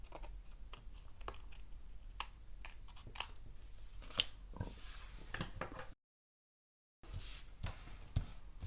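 Scissors snip through paper cardstock in a quick series of crisp, close cuts, with a brief pause of silence before a few more snips.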